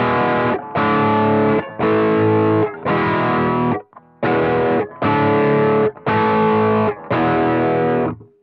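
Electric guitar chords ring out through an old school valve amp, eight distorted strummed chords in a steady rhythm, loud and close with short gaps between them.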